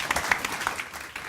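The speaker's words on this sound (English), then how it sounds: "And a round of applause for Sir Richard" Brief, faint applause for Sir Richard Lambert at a banking report launch, a small room of scattered hand claps heard at a distance for just over a second.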